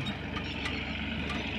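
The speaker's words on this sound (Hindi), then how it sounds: "ये ट्रैक्टर ट्राली वाला जा रहा है" A tractor pulling a trolley drives past in light rain, giving a steady low engine rumble mixed with broad hiss and an occasional faint clink. No one speaks.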